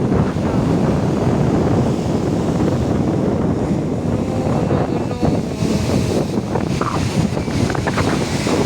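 Wind and Pacific Ocean surf on the shore at General MacArthur's landing site make a loud, unbroken roar throughout, with no clear breaks between waves.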